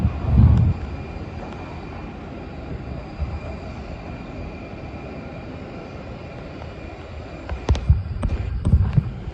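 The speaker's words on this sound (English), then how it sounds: "now taking off is an Aegean Airlines Airbus A320neo returning home to Athens" An Aegean Airlines Airbus A320neo takes off at Heathrow, its engines a low, steady rumble under distant airport noise, with a few sharper bursts near the end.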